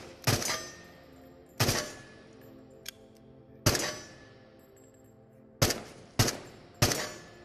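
Laser-sighted firearm fired from the hip in the VR shooter Into The Radius: six loud, sharp single shots at irregular intervals, each with a short decaying tail, close up and without speech.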